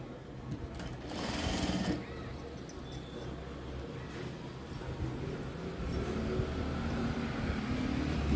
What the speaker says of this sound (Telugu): ఈ లైనింగ్ పైన ఒక కుట్టు వేసుకోవాలి.